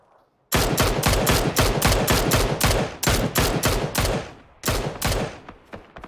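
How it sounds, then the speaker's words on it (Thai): Rapid automatic gunfire from a PUBG match in a competitive scrim bursts in loud, closely spaced shots for several seconds, pausing briefly before a final volley, with no voices. "พยายามจะยิงกับลาเต้ครับ"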